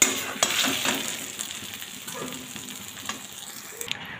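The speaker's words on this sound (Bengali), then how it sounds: "এবার কচুর শাকটা নামিয়ে নিচ্ছি কড়াই থেকে" Cooked taro greens are scraped and scooped out of a hot wok, with a soft sizzle underneath and a few sharp metallic clinks of the spoon against the pan.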